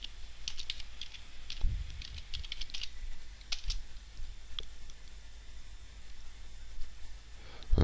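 A search being typed on a computer keyboard: quick bursts of light clicking keystrokes, close and crisp, with short pauses between bursts and a heavier key press near the end.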